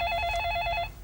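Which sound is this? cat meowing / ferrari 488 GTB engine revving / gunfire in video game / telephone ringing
telephone ringing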